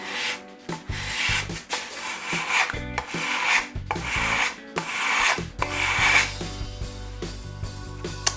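A hand scraper works along the binding of a handmade guitar body, making a run of raspy back-and-forth wooden scraping strokes, close and fairly loud, with brief pauses between passes and no talking.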